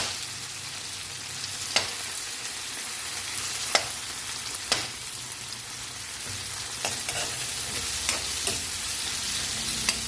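Sliced tomatoes frying in a pan for eggplant in coconut milk with dried fish: a steady close sizzle throughout, broken by several sharp scrapes of stirring at irregular intervals.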